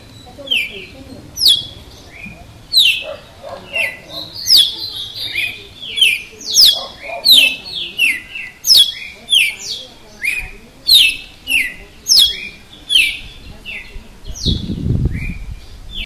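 Young red-cowled cardinals (galo-de-campina) practise song at night, loud close bursts of repeated chirping phrases in a steady run, with a brief low rumble near the end.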